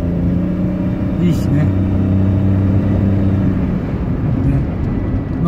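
Suzuki Wagon R Stingray TS with 125,000 km on it, its engine giving a steady, fairly quiet low hum while driving, heard under someone talking.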